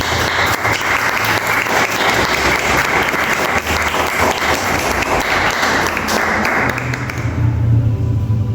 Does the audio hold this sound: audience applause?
yes